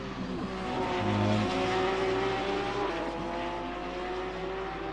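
Race cars lapping Sebring in a simGTc sim racing series, including a Porsche, with loud engines droning and shifting pitch as they accelerate close together, a steady layered roar without talk.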